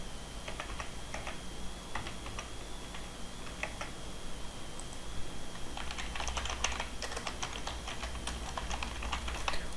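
Steady typing on a computer keyboard, registration details being entered, with rapid clattering keystrokes in bursts that grow busier toward the end over a constant background hum.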